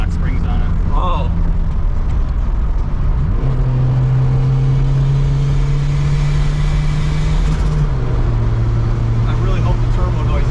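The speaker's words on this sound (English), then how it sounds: "I really hope the turbo noises come through on the camera." Honda CRX with a turbo, engine running loud and steady at a car cruise, a droning note that rises and shifts with the revs over constant rumble and background noise.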